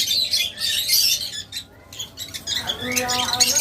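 Pet lovebirds chirping in short bursts of high tweets and squeaks, close by, mixed with a person talking over them.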